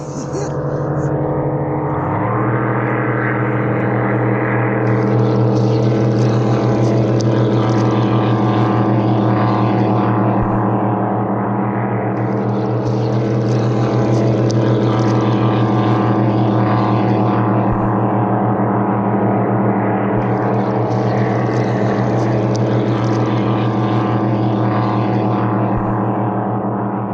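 Motorboat engines droning steadily on Apache Lake, loud and continuous with a low tonal hum, while a brighter buzzing layer, likely drones overhead, swells and fades in three waves.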